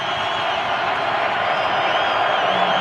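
Utah football fans in a packed college stadium during a BYU game, a dense, steady roar of cheering and whooping that holds loud throughout, with a commentator's voice faintly beneath.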